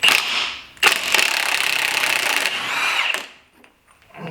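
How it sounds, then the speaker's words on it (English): An impact wrench hammering at a 1.25 inch axle nut on a GM 10 bolt axle, two loud close bursts of rattling whir with a short pause between, then quiet. "it's the only way, impact, it's the only way to get this thing off"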